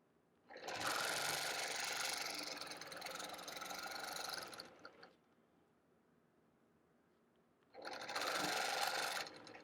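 A sewing machine stitches a guitar-themed quilt in two loud, steady bursts of rapid needle chatter separated by a quiet pause.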